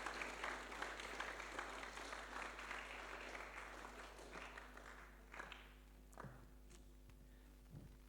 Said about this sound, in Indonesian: Mari kita tepuk tangan untuk Bapak Pendeta.